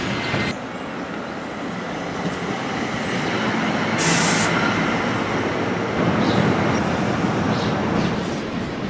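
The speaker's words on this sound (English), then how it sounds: "all of a sudden I noticed that the train was coming" A train pulling into a station with a loud, continuous rumble and rolling rail noise, broken by a sharp hiss of air brakes midway, close and steady with no speech.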